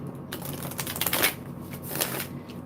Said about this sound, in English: some of these do need to be shuffled quite a bit.